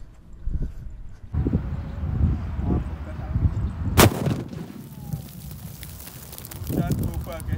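Roman candle firework set off inside an LPG gas tank buried in the ground and filled with colorful boba, with rumbling bursts and one sharp loud crack, amid outdoor noise and people talking.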